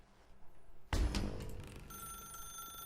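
A telephone rings in the video game The Stanley Parable, a single sharp ring that starts abruptly, then electronic tones ring on, moderately loud with no talk over them.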